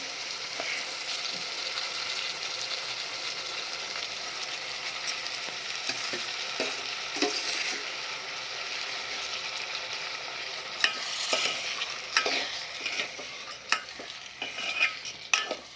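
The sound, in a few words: stirring millet and lentils in pot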